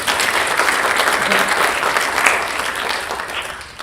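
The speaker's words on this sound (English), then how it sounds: "Let's give them a round of applause." A congregation at a spiritual gathering breaks into warm, sustained applause, a close, even wash of many hands that fades gently toward the end.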